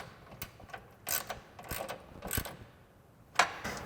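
A 3/8 ratchet with a 13 mm socket tightens bolts on a Bronco's side step bar brackets, producing soft, irregular clicking pawl ratchets in short bursts with a sharper click near the end, quiet and close.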